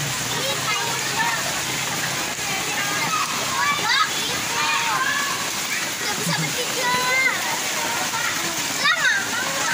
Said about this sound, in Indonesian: Hujan sebentar langsung banjir sahabat.